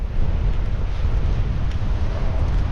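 Gusts of wind from Cyclone Jasper buffet the microphone as a loud, rumbling roar that swells and eases over a few seconds, with no voices.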